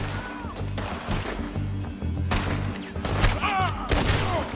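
Rapid volleys of gunfire crackle through a Red Dead Redemption 2 shootout, loud and dense throughout with overlapping shots, while game music and voices sit underneath.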